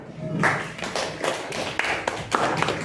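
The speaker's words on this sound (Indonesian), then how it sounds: "Kita kasih aplaus untuk Kamila sama" Classroom applause for two fourth-grade students, a steady patter of children's hand claps with irregular taps lasting throughout, moderately loud and close.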